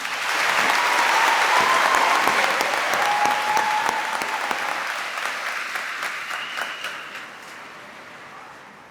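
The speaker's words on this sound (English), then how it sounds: "May we please have a round of applause." A crowd applauding at a high school graduation commencement, loud sustained clapping from many hands that gradually thins and fades toward the end.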